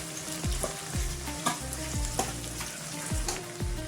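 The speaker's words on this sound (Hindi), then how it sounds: "दो मिनट में प्याज को फ्राई कर लेंगे।" Onions fry in hot oil, a dense, close sizzle broken by repeated scraping strokes of a spatula against the pan at a steady pace.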